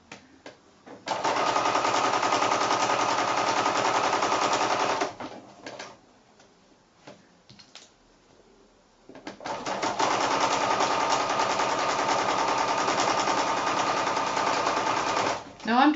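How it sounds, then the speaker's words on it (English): A sewing machine stitches quilt-as-you-go blocks and borders at a 1/4 inch seam, running in two long steady bursts separated by a short quiet pause, close and loud. "I'll just sew it all the way down, taking those pins out as I go"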